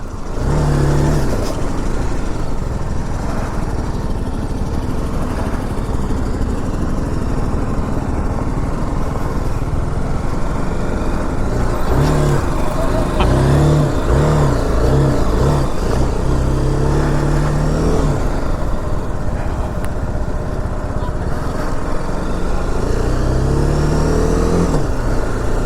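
A BMW G310 GS motorcycle ridden off-road, its single-cylinder engine droning loud and close with repeated revving rises and falls throughout, and no talk.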